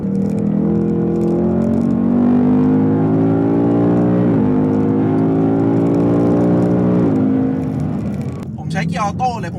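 A Ford Mustang GT 5.0 V8 accelerates hard on a track lap, its loud engine note climbing steadily, dropping at two gear changes and climbing again, with a brief voice near the end.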